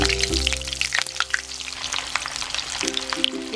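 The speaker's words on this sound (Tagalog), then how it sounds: "Now let's fry our frozen cheese stick." Frozen cheese sticks frying in very hot oil, giving a steady close hiss and crackle with dense popping and spitting that keeps going without a break.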